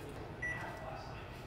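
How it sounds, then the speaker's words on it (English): A microwave oven gives a single short, clear beep partway through, over a steady background hum. "Microwave always yelling at me for"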